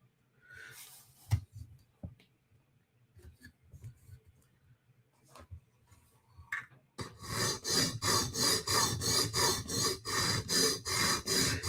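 A Spyderco knife is first handled with scattered taps and scrapes, then rubbed in steady, rhythmic rasping strokes across a sharpening stone, close and continuous for the last several seconds.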